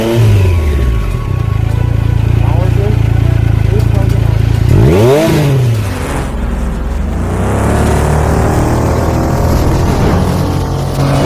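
A Triumph Street Triple RS with a 765 liquid-cooled engine accelerates hard and loud. Its pitch climbs through sweeping revs and a sharp surge midway, then settles into a steady throaty drone.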